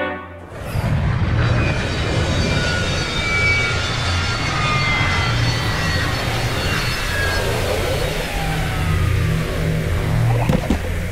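An aircraft lands in the video game Psychonauts 2, giving a loud, steady engine roar that holds for about eleven seconds with no speech over it.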